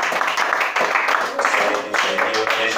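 Congregation at a church worship service applauding and acclaiming the Lord, with dense sustained clapping and voices blended together, loud and close throughout.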